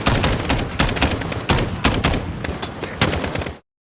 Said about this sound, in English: Battle rifles like the Scar H have a pronounced but manageable recoil, and they sound loud and good